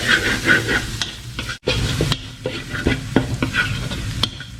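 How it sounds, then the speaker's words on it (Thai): Garlic stir-fried in a hot pan before rice goes in: a sizzling hiss broken by irregular scrapes and knocks of a spatula against the pan, close and fairly loud, with a brief pause partway through. "เวลาผัดข้าวนะครับ ต้องให้กระเทียมเหลืองหอมก่อนนะครับ"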